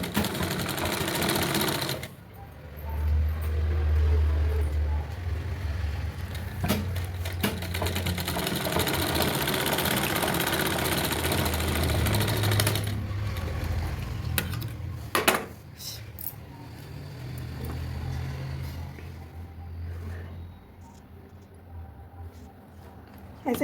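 A sewing machine runs steadily for a long stretch, stitching a sleeve onto the bodice of a frock made from an old sari, with a loud continuous whirring hum and brief pauses and no talking.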